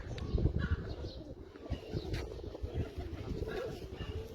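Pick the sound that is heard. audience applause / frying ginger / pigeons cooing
pigeons cooing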